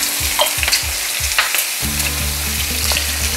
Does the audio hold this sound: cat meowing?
no